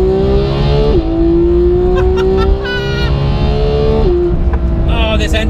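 A Ferrari F12 Tour de France V12 engine revs hard on an open road, its pitch climbing steadily through two long pulls with a brief dip at each gear change, loud and close.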